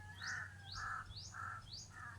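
A crow caws four times in an even rhythm on a mountainside, each harsh call clear but moderately distant, over a low steady background hum.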